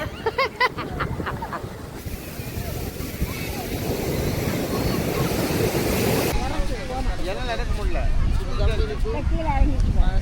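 Waves and gusting wind at Marari Beach make a constant roaring wash with buffeting microphone rumble, while people talk over it throughout.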